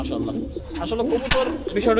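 Army pigeons coo up close in a loft, several low warbling calls overlapping, with voices talking around them.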